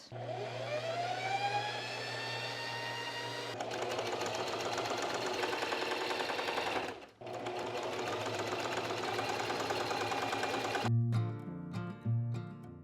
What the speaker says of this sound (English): I'm just going to load up my bobbin, do all of my basting stitching